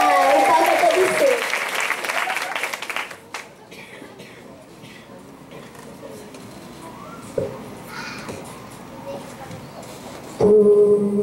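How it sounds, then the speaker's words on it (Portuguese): Audience applause for a singer coming onto a stage, a loud burst of clapping in the first three seconds that fades into quieter room noise with some talk, before music starts near the end. "Uma salva de palmas pra ela."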